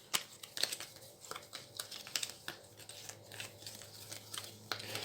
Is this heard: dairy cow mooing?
no